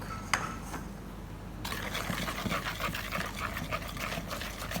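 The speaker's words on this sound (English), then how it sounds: "Okay, now I'm gonna add in our water." Water poured into a potato mixture in a home kitchen, a steady trickling pour that starts partway through after a brief clatter, close and moderately loud with no talk.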